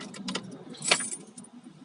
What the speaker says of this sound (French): J'ai 15 secondes pour introduire la clé et tourner la clé.